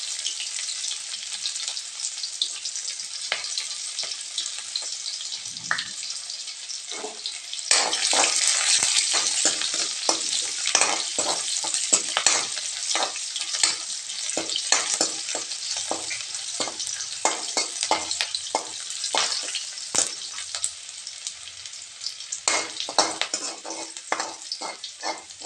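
Chopped onion tips into a pan of frying garlic cloves, raising a loud, steady sizzle, with repeated scraping and clinking as the mixture is stirred.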